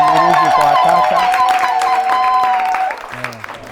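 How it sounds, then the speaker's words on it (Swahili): A church congregation applauds for a woman about to give her testimony, dense clapping under a loud, pitched voice through most of the moment, fading out near the end as a lower voice takes over. "Naomba tuongeze makofi kwa ajili ya dada yetu Tekla"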